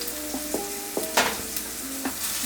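Philly cheese steak meat, seasoned with pepper and a little salt, frying in a pan with a steady close sizzle, broken by several sharp scraping stirs and a louder clatter in the middle; no one talks.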